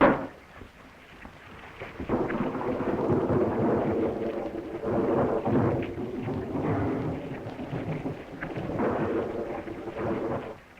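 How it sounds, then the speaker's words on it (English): Thunderstorm with heavy rain, a steady broadband roar of downpour with low rolling rumbles of thunder swelling and fading several times, loud and close throughout. "what a storm"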